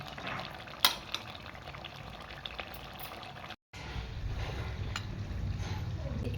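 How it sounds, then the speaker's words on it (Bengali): Chicken masala for a chicken maharani curry sautés in a pan, giving a soft, steady bubbling sizzle with a few light clinks near the start and a brief silent gap before it resumes. "আমি এই মশলাটা দিয়ে আরও 5-7 মিনিট কষিয়ে নেবো ভালোভাবে।"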